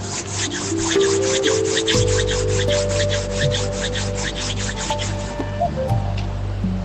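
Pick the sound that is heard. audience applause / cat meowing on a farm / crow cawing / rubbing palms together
rubbing palms together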